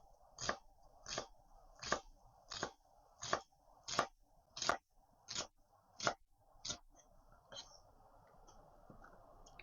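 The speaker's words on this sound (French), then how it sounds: "Échalote. Hop. On coupe en petits." A knife chops shallot on a cutting board in a kitchen, about ten crisp, evenly spaced strikes close to the mic, then stops and leaves a quiet background.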